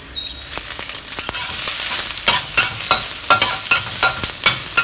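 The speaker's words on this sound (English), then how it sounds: "Stir fry over medium to low heat. We don't want to burn them, we just want the fragrance out." Chopped garlic and ginger sizzle in oil in a cast iron wok over medium-low heat, with a steady frying hiss and repeated scraping stir strokes landing in a loose rhythm, close and fairly loud.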